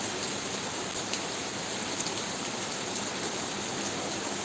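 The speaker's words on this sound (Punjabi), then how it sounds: "ਬਹੁਤ ਹੀ ਧਮਾਕੇਦਾਰ ਬਹੁਤ ਹੀ ਸੋਹਣਾ ਮੀਂਹ ਪੈ ਰਿਹਾ" Heavy rain pours down on Buttar village in Punjab in a dense, constant hiss, drops drumming on surfaces close by without pause.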